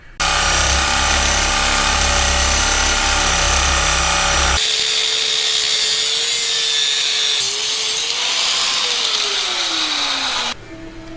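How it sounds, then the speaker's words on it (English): An angle grinder cuts into the steel bump stop mount on a truck being lowered, a loud continuous metallic whine that shifts pitch partway through as the disc bites and slows, then cuts off near the end. "we're just going to get an angle grinder in here, slice the bottom of it out"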